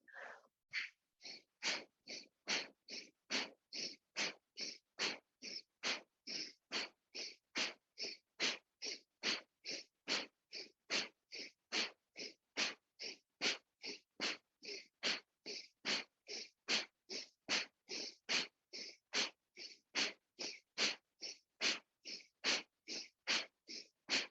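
Rapid, steady forceful breaths pumped through the nose, dozens of sharp even puffs in a fast unbroken rhythm, close and alone.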